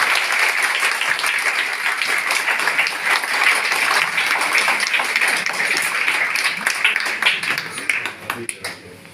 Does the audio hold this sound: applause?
yes